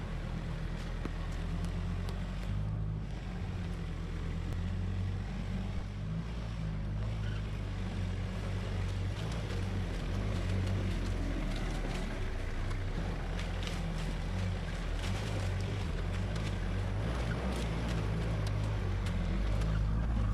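A 4WD with two lockers engaged climbs rock slabs on an off-road track, its engine a steady, close, continuous drone with low rumble and no talk.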